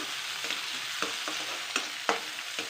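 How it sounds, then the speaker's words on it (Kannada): Onions fry in hot oil after mustard seeds and a dried red chilli go in, with a continuous sizzle and regular scraping stirs every half second or so, close and clear. "ಈಗ ಈರುಳ್ಳಿ ಹಾಕೊಳ್ಳಿ ಚೆನ್ನಾಗಿ ಫ್ರೈ ಮಾಡಬೇಕು"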